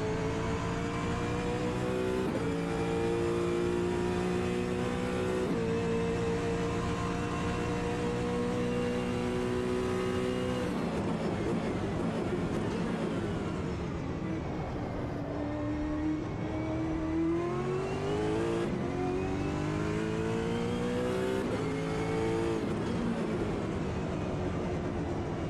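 A race car in the sim racing game Automobilista 2 holds a loud, steady engine note that climbs in pitch and drops with quick gear shifts, running continuously and alone with no talk.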